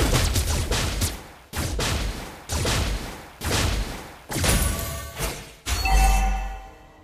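Layla's energy gun in Mobile Legends fires in repeated loud bursts, about six evenly spaced volleys, each with a sharp attack and a fading tail, ending in a brighter electronic burst.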